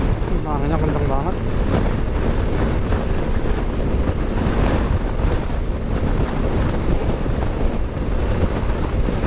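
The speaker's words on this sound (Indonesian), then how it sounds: "Anginnya kenceng banget." Strong wind roars constantly across the microphone with a dense, unbroken rush, loud and close throughout.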